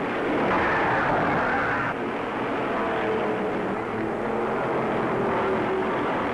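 A Pontiac Star Chief car skids in a long, steady, loud rush of tire and engine noise with no pauses, and no voices are heard.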